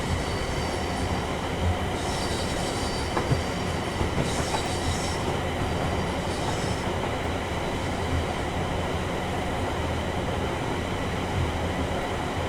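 A train runs on the line from Milton Keynes into London Euston in Train Sim World, giving a steady, continuous rumble of wheels on rail with high wheel squeal rising at moments. No speech.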